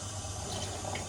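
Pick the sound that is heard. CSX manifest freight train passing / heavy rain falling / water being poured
water being poured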